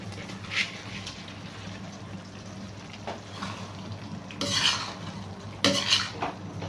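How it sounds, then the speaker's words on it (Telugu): Rice being stirred and mixed in a cooking pot over high heat with masala, giving scraping, clinking utensil strokes against the pot, with a couple of louder bursts near the end. "ఇప్పుడు ఒకసారి హైలో పెట్టుకొని రైస్ అనేది నీట్గా మిక్స్ చేసుకుందాం అంతా"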